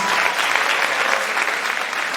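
Audience applause fills a theatre after a 2024 show performance, a steady, dense wash of clapping from a large crowd, loud and continuous throughout with no talk over it.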